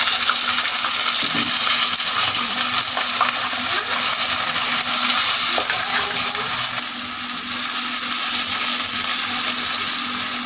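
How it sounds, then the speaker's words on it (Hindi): Minced meat (keema) fries in a pan with garlic and ginger, giving a loud, continuous sizzle and hiss with occasional stirring scrapes and no talk. "कीमा हमने अच्छी तरह से फ्राई कर लेना है।"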